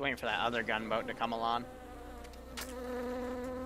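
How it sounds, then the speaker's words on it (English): Buzzing bees in a naval-battle video game set around the Battle of Bunker Hill and the Caribbean, a steady insect drone with tonal game sounds, opening under a man's speech and continuing alone. "You can hear the bees."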